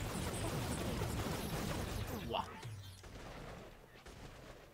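Gunfire in the video game Infamous First Light comes as a dense, loud volley of rapid shots that cuts off abruptly, leaving quieter game ambience.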